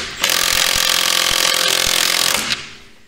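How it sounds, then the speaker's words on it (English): An impact gun with a 15 mm socket spins on a bolt of a 2023 Ski-Doo Expedition SWT snowmobile while ski skins are fitted, one loud, close, buzzing burst of about two seconds that cuts off abruptly, with no talking. "we've got a 15 mil on the impact gun."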